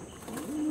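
Andhra breed pigeon giving a short, soft coo up close, a low murmuring call that swells slightly toward the end.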